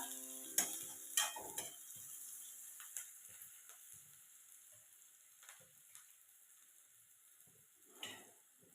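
Onions frying in a pan while fenugreek seeds are prepared, with a soft, quiet sizzle, a few sharp utensil clicks early on and intermittent stirring scrapes, heard up close.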